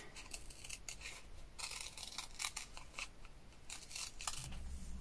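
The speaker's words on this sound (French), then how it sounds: "comme ça on va les découper." Scissors snip repeatedly and close by as paper stamps are cut out for a travel journal, a quiet, steady run of crisp cuts with rustling paper and no talk.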